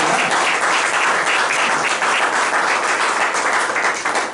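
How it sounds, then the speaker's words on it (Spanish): A church congregation gives a loud, sustained round of applause, dense clapping continuing evenly throughout without speech. "Démosle una fuerte ofrenda de palmas."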